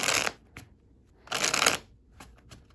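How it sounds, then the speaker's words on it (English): A Rider-Waite-Smith tarot deck is shuffled up close in two quick riffling bursts separated by a pause, followed by a few soft card taps. "Okay, so the way I like to shuffle is I shuffle the cards 4 times."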